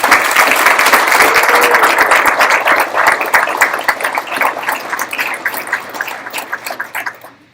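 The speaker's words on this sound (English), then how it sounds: "Please join me in a round of applause for all our family members." An audience at a graduation ceremony breaks into sustained applause for family members, a dense steady clapping that gradually thins and fades over several seconds.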